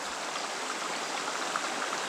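A rocky river flows steadily nearby, a constant soft rushing and trickling of water with no other sounds.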